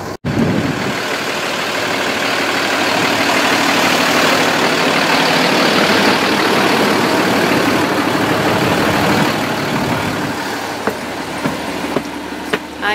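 A school bus engine idling, a loud, steady low rumble held close for the whole stretch, with a few sharp clicks and knocks near the end.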